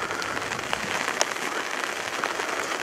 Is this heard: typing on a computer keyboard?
no